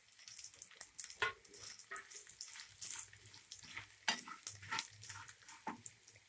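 Snake gourd and chana dal roasting in a pan on a medium flame give soft, intermittent sizzles and stirring scrapes in short irregular bursts, close up and fairly quiet.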